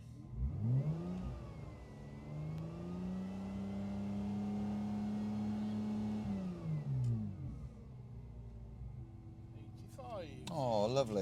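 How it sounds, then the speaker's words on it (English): A car engine revs up and is held at a steady raised speed for an exhaust noise test at a Castle Combe trackday, a smooth sustained drone that then falls back to idle, with a brief voice near the end. "So we'll stick a little probe in the exhaust and measure the decibels."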